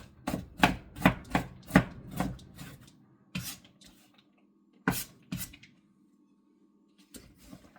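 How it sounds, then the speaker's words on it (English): Vegetables being chopped on a cutting board with a knife, a quick run of crisp close chops, then a pause and a few more scattered cuts. "I personally find it very therapeutic to chop vegetables."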